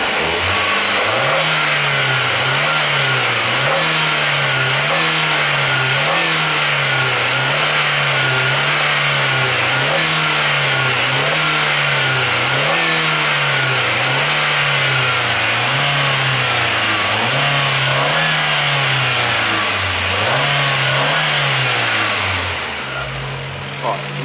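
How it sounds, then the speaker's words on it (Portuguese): A car engine, identified as a Ford EcoSport Rocam, Santana AP or Peugeot 206 TU5JP4, is revved steadily during a cooling system flush, rising and falling in a regular rhythmic cycle of revs for over twenty seconds, loud and close, with talking over it. "agora a gente precisa acelerar um pouco o motor, porque pode trazer algum tipo de sujeira pra fora."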